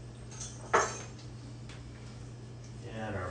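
Metal kitchen utensils clink and rattle in a drawer as a whisk is pulled out, with one sharp clatter early and softer jangling later over a steady background hum.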